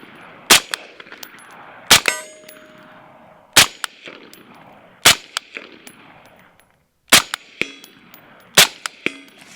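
Six sharp, loud gunshots ring out at night, each followed by a bright metallic clang as rounds hit steel targets during defensive shooting drills, with short pauses between shots.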